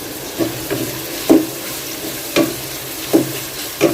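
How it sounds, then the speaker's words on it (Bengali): Onions and a few bay leaves frying in a pan, a steady close sizzle broken by several sharp stirring scrapes at irregular intervals, with no voices. "পেঁয়াজ দিয়ে দিলাম পেঁয়াজ দিয়ে এখন ভাজবো আর কয়েকটা তেজপাতা দিয়ে দিলাম"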